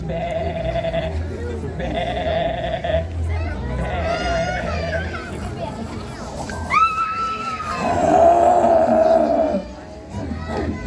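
Sheep and goats bleat repeatedly amid a murmur of background voices, the calls loud and close, overlapping in a busy farmyard din.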